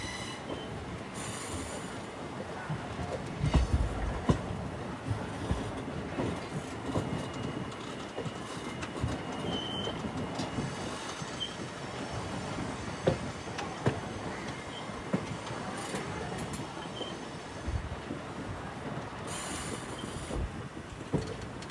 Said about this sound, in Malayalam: ട്രെയിൻ അങ്ങനെ നാഗർകോവിൽ ജംഗ്ഷനിലേക്കാണ് ഇപ്പോൾ എത്തിക്കൊണ്ടിരിക്കുന്നത്.